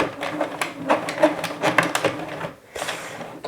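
A home knitting machine works 100% cotton yarn, its carriage producing rhythmic mechanical clacking and rattling strokes up close, briefly pausing before starting up again.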